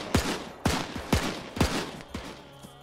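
Gunfire in an Arma-style military video game, five loud rifle shots in quick irregular succession, each with a booming echo tail.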